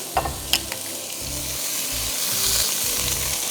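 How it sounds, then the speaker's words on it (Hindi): Meat for a jalfrezi drops into a hot pan and sizzles loudly and steadily, with a few sharp clinks of a utensil against the pan and a low stirring rumble underneath. "अब ये जो गोश्त है उसको हम डाल देंगे।"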